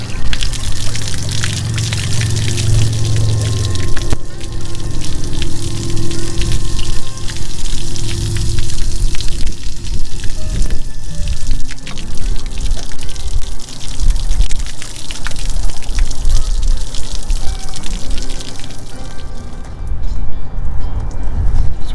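Water rushes steadily out of an RV hot water tank during flushing, a loud continuous gushing and splashing that holds without a break for the whole stretch.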